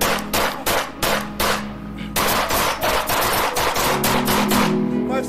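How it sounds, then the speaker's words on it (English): Rapid bursts of loud gunfire, dense and close, firing in fast rhythmic volleys that continue for several seconds with a brief pause, over a low musical hum. "Seven shots fired, sir."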